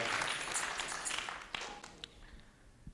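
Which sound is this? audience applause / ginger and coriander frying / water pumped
audience applause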